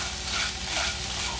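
Scrambled egg sizzles and fries in a pan while being stirred, a dense continuous hiss with soft scraping underneath, close and fairly loud with no talking.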